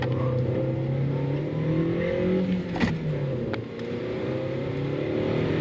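Interior of a moving car with a steady low engine and road hum throughout, a brief louder bump near the middle, and no talking.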